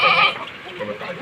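A goat bleats loudly and close, one strained nasal cry fading quickly, amid background chatter at a livestock sale.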